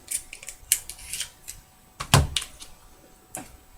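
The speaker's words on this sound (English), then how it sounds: "all we need to do is just cut all the way around" Scissors cutting around a cracked plastic Easter egg, with a series of close, sharp snips and plastic clicks at an irregular pace and one louder crack partway through.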